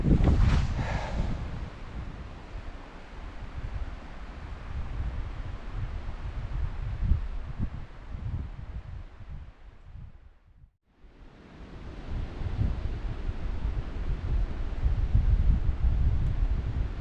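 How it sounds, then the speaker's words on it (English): Strong wind buffets the microphone continuously at an exposed bikepacking camp in Scotland, a loud broadband roar that briefly drops away around the middle before surging back with gusts. "the wind is still absolutely howling"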